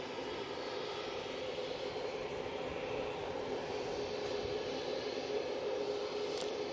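An EasyJet airliner at Manchester Airport, a steady, fairly faint jet engine roar that holds evenly throughout at a distance, with no voices.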